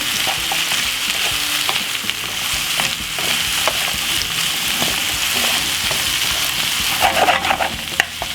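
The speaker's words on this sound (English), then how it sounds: "And stir fry these out." Vegetables sizzle and crackle steadily in a hot pan as summer veg are stir-fried with mixed herbs and a pinch of salt, with intermittent stirring scrapes and louder bursts near the end; no one speaks.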